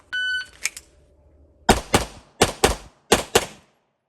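Gunshots from 124 grain powder coated rounds, six sharp reports fired in three quick pairs, loud and close, after a short electronic beep at the start.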